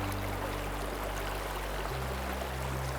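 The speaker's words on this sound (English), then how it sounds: "you're going to unscrew it carefully, find another one of these riffles where there's lots of oxygen, and you're just going to gently pour it back in" Water from a sampling jar poured gently back into a shallow, riffled stream, a steady trickling wash over the continuous rush of flowing water, with no talking.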